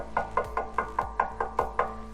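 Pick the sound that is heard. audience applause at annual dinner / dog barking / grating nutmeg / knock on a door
knock on a door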